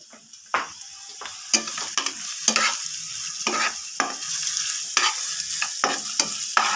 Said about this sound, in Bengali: মশলাটা তো বাড়াই নিয়ে পুরো পেঁয়াজটা ভাজা হচ্ছিল না।